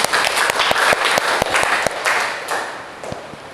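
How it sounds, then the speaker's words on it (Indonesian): Students in a biology classroom clap together, a loud burst of individual claps with sharp, distinct hand strikes, tapering off gradually toward the end. "Tepuk tangan dulu semua."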